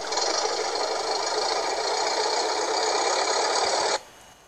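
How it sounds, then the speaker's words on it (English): A van's engine in an animated children's story grinds out a steady, buzzy rattling drone for about four seconds, then cuts off abruptly as it stalls, leaving near silence. "the van's engine made an odd noise."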